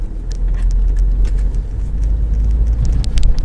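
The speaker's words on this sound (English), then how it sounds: "Car coming around the roundabout with no indicators." A car rounding a roundabout in Canterbury, heard from inside a moving vehicle as a steady low road rumble and engine drone, moderately loud and continuous with no talking.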